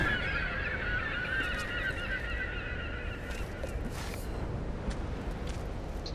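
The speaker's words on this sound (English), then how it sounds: "It's a lot of seagulls." Many seagulls call in a dense, continuous chorus of squawks in the Tomb Raider video game, loud and constant throughout with no talk over it.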